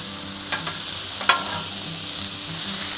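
Peppers and onions sizzle on a Blackstone flat-top griddle, a steady frying hiss with a couple of sharp scrape and stir clicks from a spatula.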